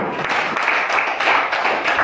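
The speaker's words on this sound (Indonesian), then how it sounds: "Oke, tepuk tangan." A classroom of students applauds after a group presentation, a dense steady wash of many hands clapping at once, close and fairly loud throughout, with no one speaking.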